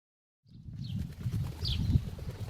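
A farm pigeon coos softly in low, throaty murmurs after a brief silence. Faint flutters and light rustling are mixed in.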